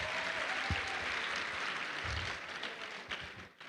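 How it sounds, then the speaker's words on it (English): A youth audience at a banking event gives itself a round of applause, a dense, fairly distant roar of clapping with a few louder thumps, tapering off at the close. "Can you just give yourselves a round of applause?"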